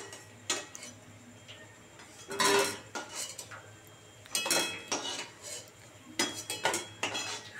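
Vegetarian fritters being lifted out of a frying pan, with a run of close metal clinks and scrapes of a utensil against the pan, coming in short bursts over a low sizzle.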